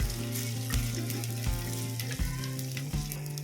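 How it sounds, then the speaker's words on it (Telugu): Bottle gourd pieces fry steadily in a pan for kichidi, a continuous close sizzle with a few brief stirring knocks and no talk. "సోరకాయ ముక్కలు వేసేసుకోవాలి."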